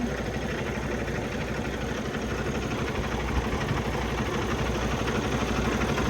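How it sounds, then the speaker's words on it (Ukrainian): A truck diesel engine runs steadily at idle outdoors, a constant low rumbling chug with no pauses. "Давайте вийдемо на на вулицю, глянемо, як працює двигун."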